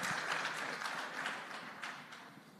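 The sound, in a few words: audience applause at conference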